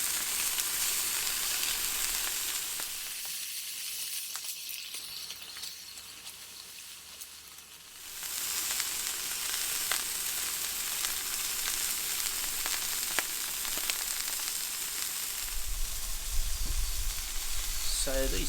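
Steaks sizzle and fry on a JetBoil MiniMo camping stove, a steady close hiss that dips briefly partway through before returning at full strength.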